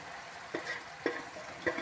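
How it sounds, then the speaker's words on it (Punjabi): Chopped cauliflower frying in a spiced tempering, a soft steady sizzle with three distinct scraping stirs spaced evenly, close by and quiet. "ਆਪਾਂ ਪਾ ਰਹੇ ਹਾਂ ਜੀ ਕੱਟੀ ਹੋਈ ਗੋਭੀ"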